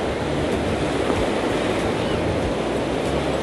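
Ocean surf washes up on a beach in Goa, a dense, continuous roar of breaking waves with wind rushing across the microphone, loud and steady throughout with no talking.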